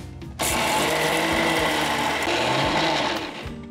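A kitchen mixer grinds dry chutney ingredients with no water added. The motor kicks on abruptly into a loud, steady, whirring roar mixed with the rattle of dry bits in the jar, holds for about three seconds, then winds down.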